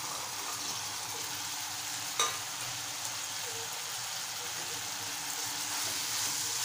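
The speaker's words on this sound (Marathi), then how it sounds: "आपण सोयाबीन जो फ्राय करून घेतलाय तो टाकूया।" Fried soybeans for a spicy Malvani-style chilli soya fry and get stirred in a pan. A soft, constant sizzle runs throughout with one sharp scrape or knock of a spoon.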